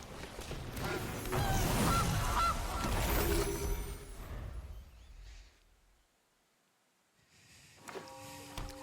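A goose card honks in the Magic: The Gathering Arena video game, a loud digital honking burst lasting several seconds amid game effects, then a pause before fainter chimes and tones.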